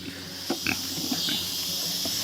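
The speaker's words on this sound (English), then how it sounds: "Look at that sassy pig." Pig grunting at bedtime in a farm pen, a few short low grunts over a steady background hum.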